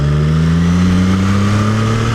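An MV Agusta F3 motorcycle accelerates hard down a straight with its quickshifter, a loud, steady engine drone rising in pitch close to the rider.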